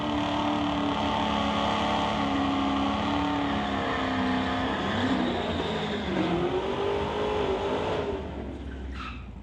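A 2016 Corvette at a drag race roars through a loud, sustained run, its engine pitch climbing and shifting through gears before cutting off near the end, with crowd or track noise underneath.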